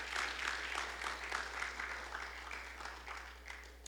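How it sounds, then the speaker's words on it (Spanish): A church congregation claps in a soft, moderately dense round of applause, fairly distant and steady over a low constant hum. "Un fuerte aplauso para ustedes."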